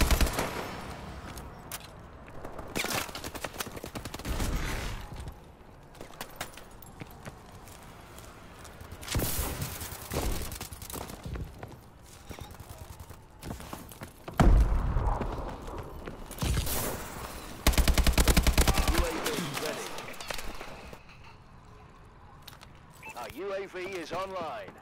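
Gunfire in a Call of Duty game, scattered bursts and single shots separated by quieter gaps, with footsteps and game noise and someone talking at points.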